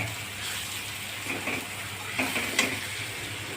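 Byadgi chili masala is sautéed in a pan for paneer bhurji, giving a steady, close sizzle with a few scraping stirs toward the end and no voices.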